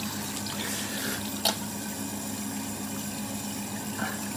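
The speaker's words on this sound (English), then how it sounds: "just rinse your face a little bit with it" Tap water runs steadily into a sink for rinsing the face, a constant moderate splash with one brief louder knock partway through, no talking.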